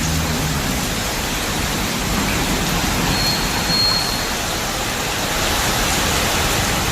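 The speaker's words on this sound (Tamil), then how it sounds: "பலத்த மழை பெய்தது." Heavy rain pours down as a dense, loud, continuous rushing hiss with no letup and no voices over it.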